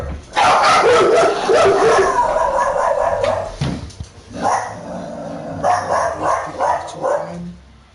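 Dog barking in a Fortnite game, loud close barks and yips in irregular bursts with whimpering tones between them.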